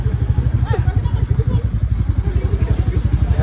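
A motorcycle ridden with a passenger gives a steady, close engine drone with a regular pulsing throb throughout, and a voice talks faintly over it.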